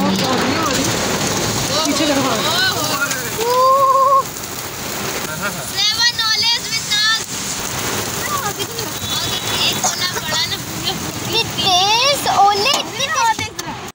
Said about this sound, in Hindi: लेकिन उससे पहले आपको चेक करवाते हैं बारिश और ओले